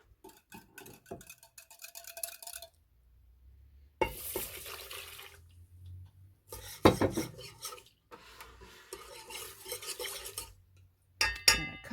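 A spoon scrapes and clinks around a bowl while stirring in a cup and a quarter of hot kettle water, in irregular bursts of scraping with short pauses and small knocks between.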